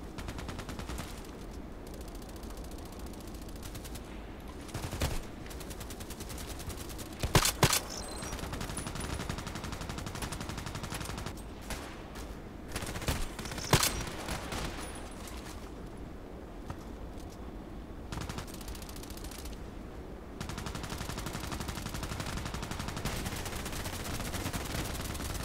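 Gunfire in a first-person shooter game: scattered sharp shots and short bursts at a distance, spread across a steady background rumble, with a louder cluster of shots in the middle.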